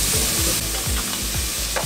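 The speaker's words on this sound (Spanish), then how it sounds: "Vamos a sofreír un rato hasta que esto cristalice" Leek, onion and garlic with paprika sautéing in a pan, a loud continuous sizzle with a few rhythmic stirring scrapes repeating through the short stretch, close and unaccompanied by talk.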